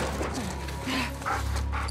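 A dog barks and whimpers in The Last of Us Part II, with short yips cutting through dense game noise and a steady low rumble, close and fairly loud.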